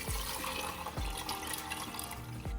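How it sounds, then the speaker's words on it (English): Water pours into a pot of soaked, rinsed garbanzo beans in a steady splashing gush, close and continuous for a few seconds. "Pour it in, add water,"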